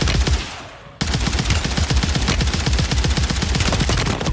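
Rapid automatic gunfire in Call of Duty Warzone during a ranked match, a dense run of loud bursts and cracks that starts abruptly after a brief quieter moment and continues without pause.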